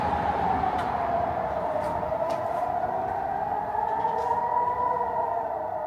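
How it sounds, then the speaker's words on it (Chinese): A long, steady air raid siren wails continuously at a distance in Palestine, its tone holding then slowly bending, with faint clicks and background noise. "空袭警报。"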